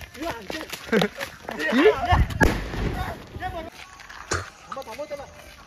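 Firecrackers going off by hand during village Diwali celebrations, a few sharp bangs and pops amid lively, overlapping talk and shouting from nearby people.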